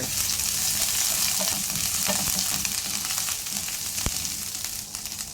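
Ginger sizzles in hot olive oil while a shrimp dish is being made. The frying hiss is steady and close, with soft stirring scrapes and one sharp tap near the end.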